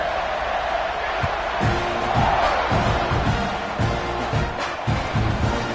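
A football stadium crowd at a Georgia vs Texas A&M game roars steadily at kickoff, forming a dense, loud wash of cheering with a commentator talking over it.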